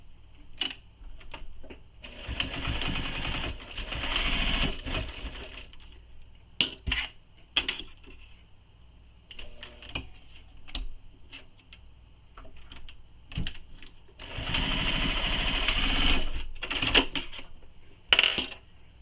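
Sewing machine bastes the ends of a bowler bag together in two bursts of steady whirring stitching, with clicks, taps and handling noises of fabric and tools in the pauses between, close by and without speech.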